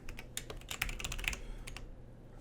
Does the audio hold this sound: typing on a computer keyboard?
yes